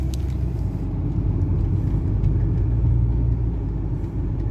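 A car on the move, heard from inside the cabin: a steady, low engine and road rumble droning throughout at an even level, with no voices.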